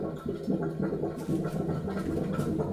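A sink drain gurgling loudly and continuously, with bubbling, burbling pulses at close range and no one speaking over it.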